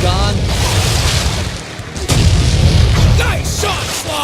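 Cannonball blasts strike a boat in the Sly Cooper 3 pirate harbor battle, heavy booming impacts with a sharp burst near the middle, loud and dense over continuous game noise and background voices.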